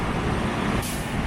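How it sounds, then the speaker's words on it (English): Garbage truck on a residential street beside an 1890s Victorian house, its engine rumbling loudly up close before a sharp hiss of air brakes bursts out partway through and holds to the end. "Garbage truck."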